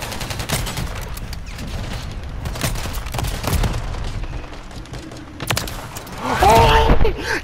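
Rapid gunfire in a Call of Duty free-for-all match during a trick shot attempt, a dense run of loud, close shots and bursts followed by a rising metallic whine near the end.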